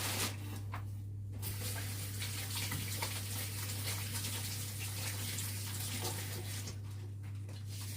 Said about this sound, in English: let me go wash my hands first.